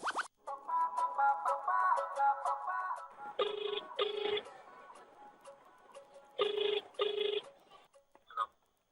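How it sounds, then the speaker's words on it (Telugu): A phone call connects with a few short electronic tones, then a ringback tone sounds twice in paired bursts, fairly quiet. "సో ఆర్టిస్ట్ చక్రి గారికి కాల్ చేస్తాం."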